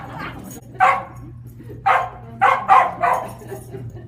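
Angelyne, an ageing working dog with arthritis, barks close by in four or five sharp, separate woofs spread over a few seconds, against a faint low hum.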